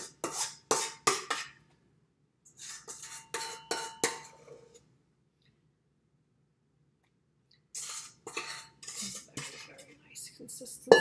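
Spatula scraping and tapping against a bowl while folding egg whites into chocolate cake batter, in clusters of wet clinks and scrapes with a long quiet pause between.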